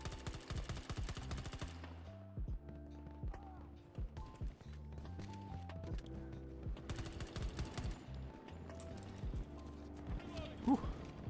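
Burst-fire gunshots from a weapon in the video game Battlefield 2042, rapid short volleys of cracks repeating through the clip amid dense game noise and music.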